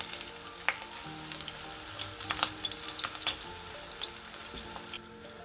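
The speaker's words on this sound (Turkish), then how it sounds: "Püf noktası kızartırken kesinlikle kurutmuyoruz." Oyster mushrooms fry in a pan with a busy, continuous sizzle punctuated by sharp crackles and pops, heard close up without any talk.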